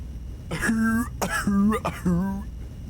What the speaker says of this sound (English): Harry began to cough violently again.